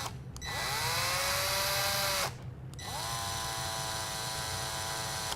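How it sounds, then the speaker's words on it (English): An electric drill spins a bit that threads up into a tube, two sustained whining runs with a brief pause between, loud and close, rising in pitch as it starts each time. "So hopefully the drill bit will grab the tube and it'll start threading up."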